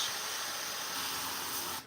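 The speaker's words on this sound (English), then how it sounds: "Just one big spray." An airbrush sprays paint onto a Warhammer miniature in one continuous, close, airy hiss that cuts off abruptly at the end.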